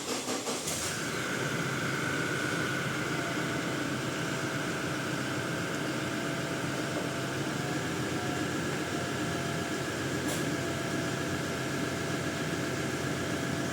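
A Toyota Fortuner's engine runs steadily while the vehicle reverses, a constant broadband hum and whir with a faint tonal whine, heard close and alone.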